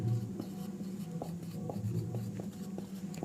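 Chalk or a marker writes on a board in a series of quick, faint taps and strokes during a physics lesson, with no talk over it.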